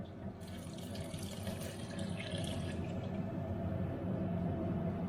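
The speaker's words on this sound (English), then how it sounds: "Pour the stock over the whole lot." Stock poured over mushroom biryani rice with cloves, cardamom pods, bay leaves and a cinnamon stick, a steady close liquid pour running the whole way through with no talk.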